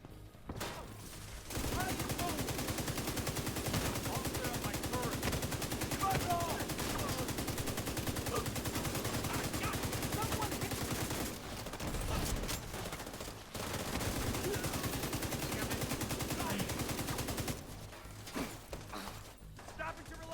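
Sustained automatic gunfire rattles in the video game The Division 2, long dense bursts broken by brief pauses, with speech over the shooting.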